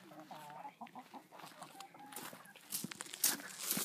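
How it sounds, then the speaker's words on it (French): Soft, uneven clucking from a hen with a broken leg nearby, in short irregular bursts over a quiet farmyard background with some shuffling. "c'est une poule qui s'est cassé la jambe"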